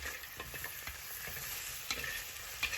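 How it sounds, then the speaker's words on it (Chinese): Pork ribs sizzle in a wok as ginger and scallion are stir-fried with them: a quiet, continuous frying hiss broken by light scraping and tossing strokes, with no talking. "把剩下的姜和葱也倒进来，然后把它们翻炒出香味。"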